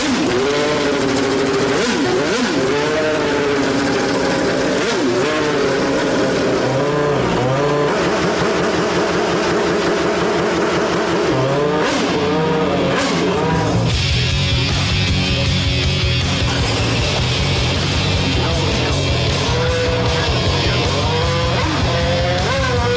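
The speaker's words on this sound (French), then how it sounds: "un cœur qui bat à plus de 800 chevaux, un moteur de Formule 1." A 1995 Renault Espace F1 minivan with an 800-horsepower Formula 1 engine drives past. The loud, high-revving engine climbs and drops through gear changes and holds a sustained roar throughout.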